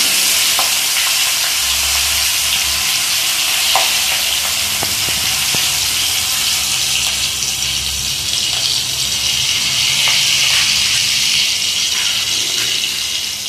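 Turmeric, curry leaves and green chili frying in hot oil in a pan: a steady, loud crackling sizzle throughout, with occasional stirring clinks and pops and no talk.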